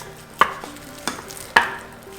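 Seasoned ground meat for oregano-flavored Italian meatballs being mixed by hand, giving three soft, separate squelching slaps spaced about half a second to a second apart, close by with no talking.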